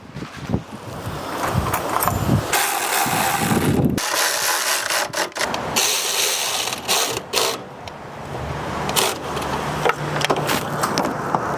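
Small bolts being fitted and tightened with a ratchet while installing an all-aluminum three-row radiator in a 2006-2010 Ford Explorer, with close mechanical clicks, rattles and clanks of tools and parts through the whole stretch.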